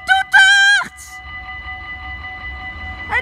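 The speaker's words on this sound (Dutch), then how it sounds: "Hij heeft getoeterd." A train horn at Maasbracht sounds two short, loud, near blasts, then drops away to a quiet rumble.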